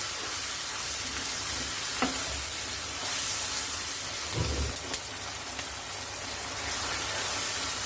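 Ginger and garlic spice paste frying in a pan for boal fish curry: a steady loud sizzle with occasional stirring scrapes and taps, and no talk.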